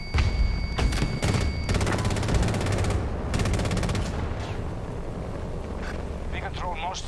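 Rapid bursts of automatic gunfire from Battlefield 2042 played on an Xbox Series S, dense and fairly loud in the opening seconds and then thinning out, with a voice talking over the shooting.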